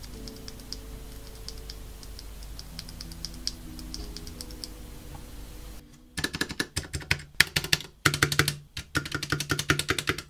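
A custom NK65 mechanical keyboard with C3 Tangerine linear switches is typed on in quick, uneven bursts of crisp clacks during the second half. Quiet tonal background music plays before the typing begins.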